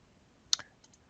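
Two crisp computer mouse clicks land close together near the middle, loud and near, then fainter ticks follow in otherwise quiet surroundings.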